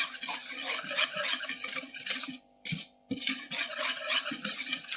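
Chicken marinade spiced with pepper is stirred and mixed by hand in a bowl, giving a steady wet squelching and scraping that runs on with a brief pause midway.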